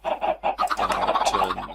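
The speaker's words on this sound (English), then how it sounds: "turn the chickens down a bit." Chickens in a Minecraft-style multiplayer video game clucking loudly and repeatedly, a close, busy stream of overlapping clucks without pause.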